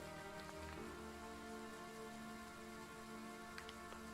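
Steady, faint rain falls in the video game Triangle Strategy during a battle scene, a soft continuous wash with a few light taps.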